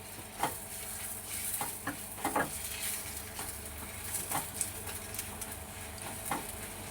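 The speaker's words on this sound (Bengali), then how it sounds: "পুরিটা ভাজবো।" Puri shallow-frying in a pan with a spoonful of oil, giving a soft, steady sizzle with faint scraping and stirring taps scattered through it and no talking.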